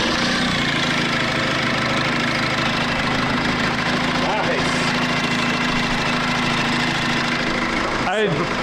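A Toyota LandCruiser LC79 engine idles with a steady, close, continuous rumble and slight knocking texture, while people talk over it.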